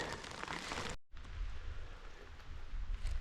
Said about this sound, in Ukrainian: а дощ лупить